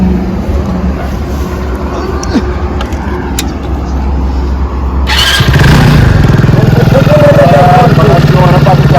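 A motorcycle is started about halfway through and then runs at a loud, steady idle close by, after a quieter stretch of background noise.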